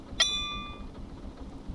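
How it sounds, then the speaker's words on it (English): A Metra F40PH-3 locomotive bell in the game Stormworks gives a single bright metallic clang that rings out and decays over about half a second, followed by a quiet low rumble. "if I turn on the bell"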